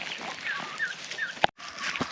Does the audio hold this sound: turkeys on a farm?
yes